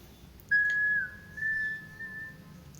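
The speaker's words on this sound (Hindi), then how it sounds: "आप सीटी बजाओ" A single person whistles a clear, sustained tune, one long steady note that dips and rises slightly, heard alone over faint low background hum.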